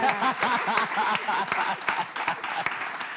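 An audience at a slam poetry event applauds, giving a short, continuous patter of clapping at moderate volume with some brief vocal sounds mixed in.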